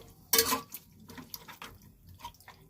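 Chicken tips into a cooking pot with one sudden wet splash and clatter, followed by faint scattered clinks and drips, close and moderately quiet.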